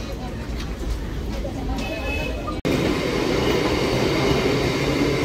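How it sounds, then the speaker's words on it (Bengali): A passenger train pulling into Akaipur station, with a steady rumble and rattling of the carriages, close and continuous, interrupted by a sharp break partway through, while a voice talks over it. "উঠে পড়লাম গোপালনগর থেকে ট্রেনে, আর এখন আকাইপুর ঢুকছি।"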